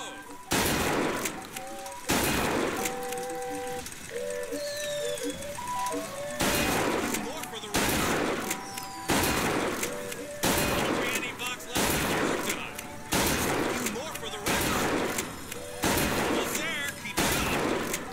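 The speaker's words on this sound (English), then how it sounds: "Oh, Comstock shotgun" Shotgun blasts in the game Bioshock Infinite, a rapid series of loud, sharp booms repeating every second or two, heavy and close, with battle noise and a voice talking between shots.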